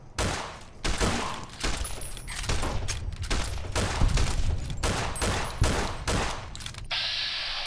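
Gunfire in Fallout New Vegas on PC, a loud run of close, rapid shots and bursts firing one after another with brief gaps, ending in a quieter hiss.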